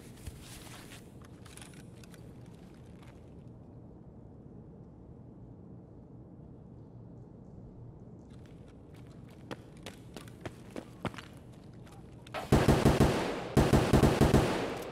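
A TX-15 rifle fires in Escape from Tarkov, heard as scattered distant shots followed by two loud, close bursts of rapid automatic fire near the end, with no talking.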